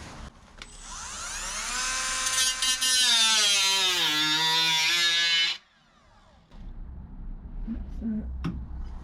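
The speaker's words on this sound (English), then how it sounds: "You just can't get the grinder in sideways to cut the pieces off." An angle grinder cutting the metal inner wing of a Rover P6 car whines loudly at a high pitch, dips in tone under load, then cuts off abruptly before quieter handling noises resume.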